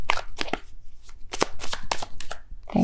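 Tarot cards shuffled and drawn during a love reading, crisp riffling and snapping bursts in quick uneven clusters, close and fairly loud with a voice briefly at the end.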